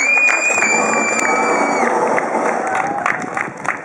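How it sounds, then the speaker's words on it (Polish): Crowd cheering and whooping with some applause at an Audi car meet event in 2012, a loud, sustained wash of voices and shouts that fades slightly toward the end. "Jeśli was podoba, to dajcie brawa."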